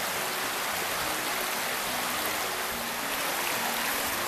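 Creek water rushing in a steady, broadband wash, close and continuous with no voices.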